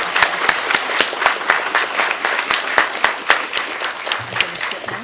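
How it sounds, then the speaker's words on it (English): Audience at a town council inaugural meeting applauds newly elected youth and mayor, a steady round of many hands clapping with sharp individual claps standing out, held at even loudness for several seconds. "how about a nice hand raise applause for all our newly elected youth and"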